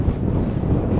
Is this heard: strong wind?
yes